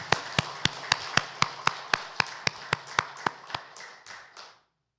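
A church congregation at a Sunday worship service claps in unison, sharp evenly spaced claps about three per second, loud and clear at first, then loosening and fading out near the end, with no talking over them.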